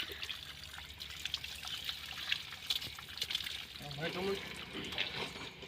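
Water is poured over the heads of buffaloes on a village farm, making a steady trickling, splashing sound against a noisy outdoor background.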